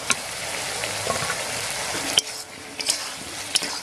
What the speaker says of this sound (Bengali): একটু নাড়িয়ে নিচ্ছি।